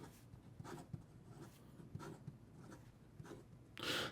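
A Fifty4T Titan Ultem fountain pen writes quickly on paper, giving faint, close scratchy strokes in short repeated bursts, ending with a louder rub.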